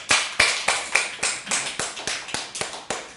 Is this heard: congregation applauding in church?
yes